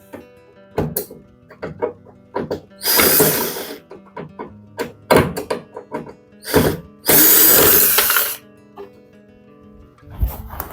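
Screws being removed from the front panel of a Samsung heat pump dryer, heard as a string of short ratcheting clicks and tool taps, broken by two longer whirring bursts of a power driver, close up with no talk.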